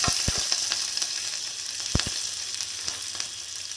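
Vegetables fry in a pan with a steady close sizzle, punctuated by a few sharp taps and scrapes of a spoon against the pan; cooked for a Kannada avarekai palya.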